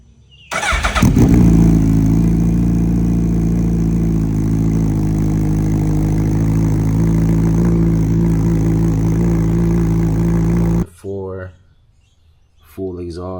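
A 2024 Suzuki Hayabusa fitted with a full exhaust fires up from cold with a sharp burst, then settles into a loud, steady, deep idle for about ten seconds before shutting off, followed by brief talking.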